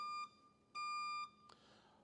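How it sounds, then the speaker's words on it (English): Two steady electronic timer alarm beeps, a bright tone sounding for about half a second each, with a short click at the end, signalling question time at a EuroBSDCon 2024 conference talk. "So that was the alarm for questions"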